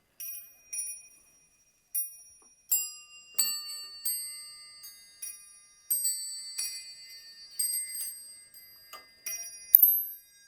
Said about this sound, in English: it's also a musical clock